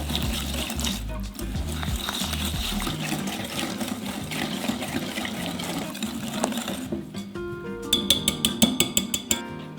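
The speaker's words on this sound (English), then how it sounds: "Just mix everything well." Oat bar ingredients being stirred with coconut oil in a bowl, a continuous close scraping and mixing, ending with a run of quick rhythmic clinks from the utensil against the bowl.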